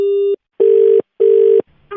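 Telephone ringing in three loud, evenly spaced electronic bursts with short gaps between them, heard alone with no talk over it.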